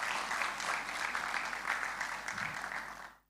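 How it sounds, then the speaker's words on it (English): An audience at a graduation ceremony applauds a guest speaker, a steady wash of clapping that carries on for about three seconds before cutting off, fairly faint and distant in a large hall. "Another round of applause for our guest speaker"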